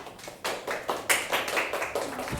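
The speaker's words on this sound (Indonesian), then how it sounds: "Boleh tepuk tangannya?" Audience clapping at a student presentation session, scattered and uneven hand claps at moderate distance building over a couple of seconds, no voices over it.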